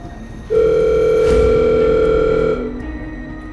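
A steady telephone dial tone hums for about two seconds, then cuts off, leaving faint background noise.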